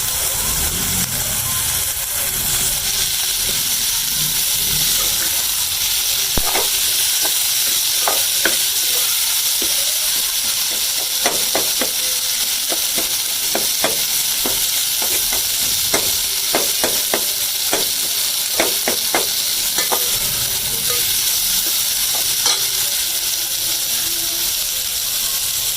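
Tomato masala with green chillies frying in a pan, a constant loud sizzle broken by repeated scraping and clinking strokes of a spoon stirring, close by and without talk.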